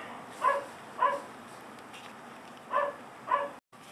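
Four sharp dog barks in two pairs, moderately close, with quiet pauses between them.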